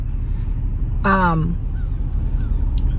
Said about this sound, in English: There's a bird.